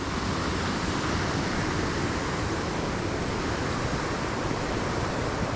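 Water rushing over rocks in a continuous loud roar, steady and broadband, with no voices.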